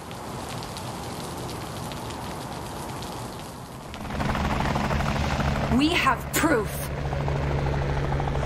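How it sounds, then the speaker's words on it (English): Military helicopters fly through the rain in the video game Liberated. A deep rotor drone swells in after a few seconds over steady rainfall, with a voice speaking and sweeping tones overhead. "Military choppers!"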